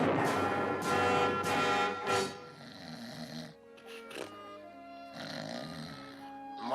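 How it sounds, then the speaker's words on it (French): A cartoon Smurf snores in a French animated episode, several loud rhythmic snores in a row, then softer breathy sounds with music-like tones beneath, no talk heard. "Moi, j'aime pas ronfler."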